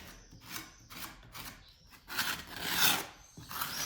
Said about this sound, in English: If you don't have an oven covered in paint that you need to scrape off, you should go paint one so that you can unpaint it.